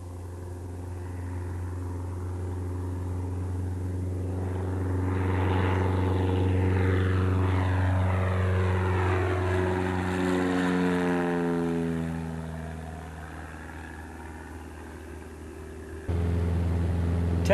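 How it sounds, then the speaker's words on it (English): A Cessna 172 on floats roars at full power on a lake takeoff run, its propeller drone swelling loud and steady with a sweeping harmonic rise and fall as the plane accelerates, no voices. "He's downwind, putting in full power to get her up on the step."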